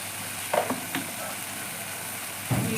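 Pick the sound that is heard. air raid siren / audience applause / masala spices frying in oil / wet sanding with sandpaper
masala spices frying in oil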